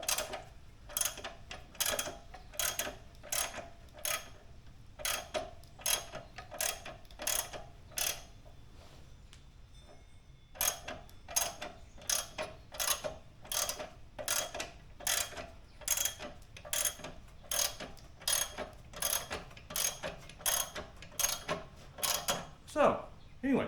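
Pittsburgh 450 lb scissor-style transmission jack from Harbor Freight ratchets as it is cranked, giving a long series of regular sharp clicks with a short pause near the middle, close and fairly loud.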